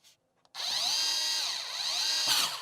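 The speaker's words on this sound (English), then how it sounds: "The last step: close the cover and fix all the screws." A power screwdriver drives the cover screws on a PBX unit: after a couple of faint clicks, a loud, steady whirring motor hum runs for about two seconds close by, with no talking.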